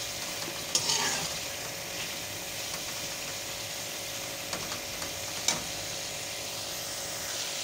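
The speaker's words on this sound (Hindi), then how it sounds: "मसाला भूनना शुरू हो गया है।" Spices sizzle steadily in hot oil with softened onions for a tomato-onion chutney, a continuous close frying hiss broken by a few faint scraping stirs and clicks, with no talk.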